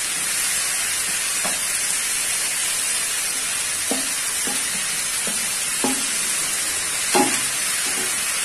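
Mixed vegetables for a pepper fry are stirred in a hot frying pan: a steady loud sizzle with scattered scraping knocks of the spoon against the pan.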